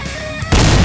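Gunfire in the VR shooter Zero Caliber, a loud, sudden blast of dense broadband noise that cuts in halfway through and holds steady at close range.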